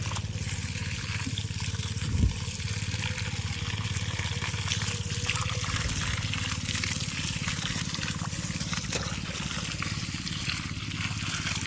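Irrigation water flowing into a farm field at night, a constant, even rush and trickle that holds steady throughout, with no talking.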